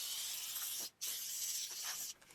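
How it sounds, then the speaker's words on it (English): A steady, close hiss of air from an air compressor blowing into wooden drawer sections runs throughout, briefly cutting out twice before resuming. "using my air compressor, I spray a very light stream of air into the drawer sections"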